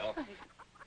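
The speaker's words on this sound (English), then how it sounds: "My chickens. Oh, the Orpingtons, isn't it sweet?" Orpington chickens cluck softly in a few short, close calls, with faint background noise between them.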